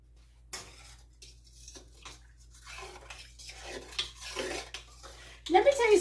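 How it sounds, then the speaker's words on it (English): Food is stirred in a pot with a utensil that scrapes and clinks against the metal, giving intermittent soft scraping strokes that build toward a sharper clatter near the end, close up and fairly quiet. "Let's stir it."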